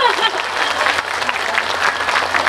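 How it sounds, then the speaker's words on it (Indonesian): An audience at an Islamic lecture in Taiwan breaks into dense, steady applause that fills the hall, with a few voices mixed in. "Ayo boleh berikan tepuk tangan dulu"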